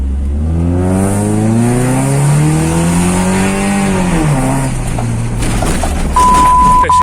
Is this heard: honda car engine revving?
yes